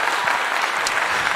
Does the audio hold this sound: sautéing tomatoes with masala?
no